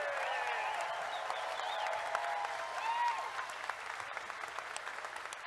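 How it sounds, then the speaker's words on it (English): An audience at TennoCon 2019 applauds and cheers, the clapping and whoops fairly distant and subdued, with scattered shouts rising over the crowd. "Round of applause"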